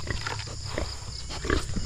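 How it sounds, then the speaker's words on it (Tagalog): Farm pigs at morning feeding time, a steady mix of grunting, snuffling and chewing noises close by, with a few louder squeals or snorts around the middle and near the end. "Papakain naman po tayo ng baboy po."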